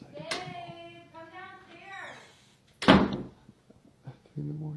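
A door slams once, hard and loud, after a stretch of speech, followed by a few faint knocks and more talking.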